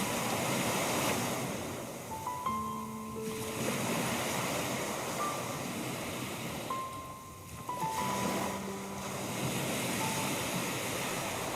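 Gentle waves wash steadily against sand and rocks in a continuous surf hiss, with faint distant tones drifting in at moments.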